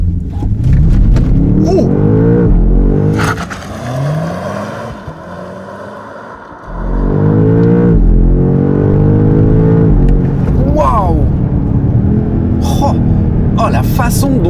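A 2024 BMW M5 G90 with 727 hp launches under launch control in its sportiest M2 mode, a loud close engine roar climbing in pitch through several gear shifts with a brief lull midway, and a man exclaims over it.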